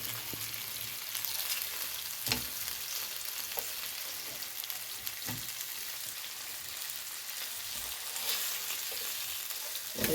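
Jilebi fish fries in oil in a pan, a steady close crackling sizzle running throughout with a few soft pops and scrapes as the fish is flipped, no voices.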